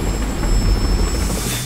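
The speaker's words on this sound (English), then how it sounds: "This guy's taking attack chopper fire like it's nothing." An attack helicopter in Metal Gear Solid V roars nearby as a loud, dense rotor and turbine drone with a high whine over it, steady and close, with no talk.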